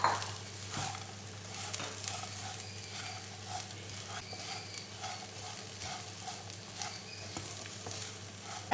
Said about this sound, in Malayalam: ഇതിലേക്ക് വറുത്ത് വെച്ച ഉണക്കച്ചെമ്മീനും കൂടി ചേർക്കുവാണ്.